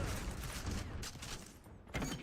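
Automatic weapon fire in the shooter Black Ops 6, a sustained dense rattle that runs through most of the moment with a short lull before picking up again, no one speaking.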